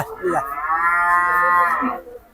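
A small cow at Gabtoli cattle market in Dhaka gives one long, loud, close moo lasting about two seconds.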